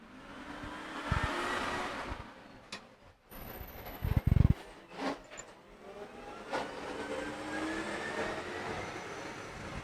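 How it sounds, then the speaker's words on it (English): Trucks driving around outside a workshop, heard as a low, distant rumble of heavy vehicles rising and fading across the scene, with a few sharp clanks of nearby work in between. "There's a lot of trucks out here today. A bunch of them going around."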